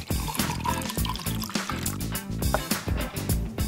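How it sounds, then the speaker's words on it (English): Hot sugary water poured into a glass with a string in it, a continuous close bubbling, gurgling stream with small splashes throughout. "pour the sugary water into your glass with the string"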